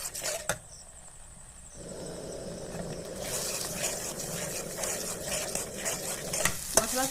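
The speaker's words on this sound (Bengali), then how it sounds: "এবার ডিমগুলোকে মশলার সঙ্গে খুব ভালোভাবে নেড়ে চেড়ে ঝুরো ঝুরো করে ভেজে নেবো" Eggs stir-fried with spices in a pan until scrambled and crumbly give a low sizzle that swells and grows louder partway through, with scraping strokes of the spatula and a couple of sharp knocks, close and fairly quiet.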